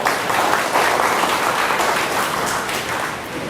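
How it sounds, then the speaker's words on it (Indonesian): An audience at a business-school seminar claps for a guest, a loud, dense round of applause that tapers slightly toward the end, with no voices over it. "Tepuk tangan buat Kang Dewa ya."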